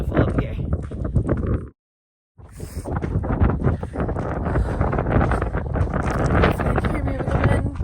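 Strong wind buffets the microphone at a high mountain point, a loud, continuous roar that drops out briefly and then returns, with a person talking under it.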